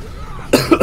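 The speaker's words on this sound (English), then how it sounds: "Sorry for coughing again." A person coughs three times in quick succession after a brief quiet stretch, the coughs close and loud.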